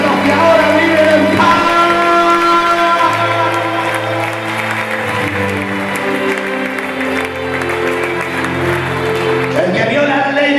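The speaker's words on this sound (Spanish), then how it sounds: "Levanta la izquierda, levanta la derecha y dale un fuerte aplauso" A church congregation gives a loud round of applause during a Sunday sermon. A steady wash of clapping plays under sustained music with tonal notes and voices throughout.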